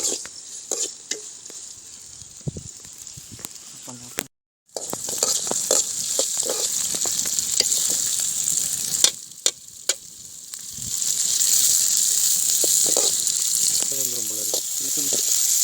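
Garlic, onions and fenugreek sauté in a pan for a country crab gravy. A continuous close sizzle runs throughout with repeated spoon scrapes and stirring clatter, a brief silent gap, then louder frying toward the end.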